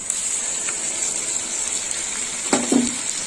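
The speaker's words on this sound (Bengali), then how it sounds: "এবার দিয়ে দেবো গুলে রাখা মশলা" Spice paste dissolved in water is poured into a hot pan while cooking moong dal with ridge gourd and prawns, giving a brief close splash and sizzle near the end over a steady frying hiss.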